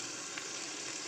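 Onion, tomato, garlic and ginger sizzle while being sautéed in a pan for a Bengali katla posto curry, giving a brief, steady, soft hiss of frying.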